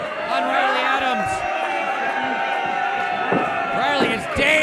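A wrestling crowd at Brewery Bas roars and cheers steadily, with whoops and shouts rising throughout, heard under an announcer's excited commentary.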